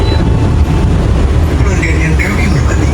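A new Jombang–Jakarta economy train runs on its rails with a loud, steady rumble and rattle from inside the carriage, with faint brief tones and background voices.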